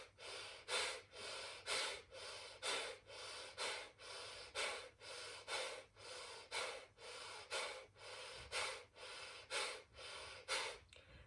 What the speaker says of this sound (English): In through the nose, out through the nose, using the stomach muscles to push the air out